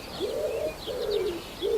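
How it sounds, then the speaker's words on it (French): A Eurasian hoopoe on the Île de Ré calls in a steady series of soft, hollow hooting notes, three evenly spaced phrases at moderate distance, with fainter chirping birds higher up in the background. "la huppe fasciée"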